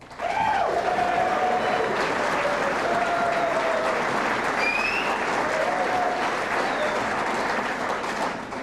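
Sustained applause from a banquet crowd honoring the 1992 General Motors of Canada Motorsports team, dense steady clapping filling the room, with a few faint voices and whistles over it.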